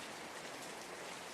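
Steady rain falls in a constant, even hiss, soft and distant, with no other sounds.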